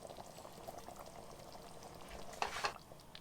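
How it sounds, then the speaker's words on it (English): Water coming to a boil in a cooking pot, heard as a soft, continuous bubbling and simmering with a brief louder burst of bubbles near the end. "our water's coming to a boil"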